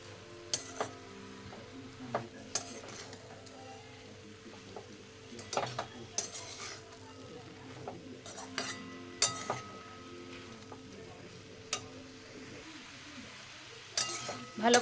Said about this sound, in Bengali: আবারও নাড়িয়ে নেব।